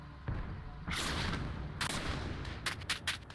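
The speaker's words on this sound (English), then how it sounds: "Oh, now we're firing APCR too." Tank cannon fire from an M36 Jackson tank destroyer shooting APCR rounds in the War Thunder video game: a couple of loud, close booming shots followed by several sharper cracks of battle gunfire, with no talk.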